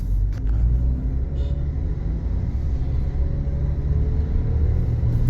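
Suzuki Jimny driving on a road, a steady, loud low engine rumble and tyre roar holding constant throughout with no talk.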